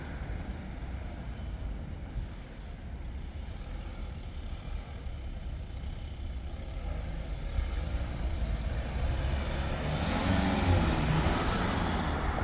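A 2026 Foton Tunland V7 bakkie being driven empty, heard from inside as a low steady engine and road drone that swells louder toward the end as it accelerates.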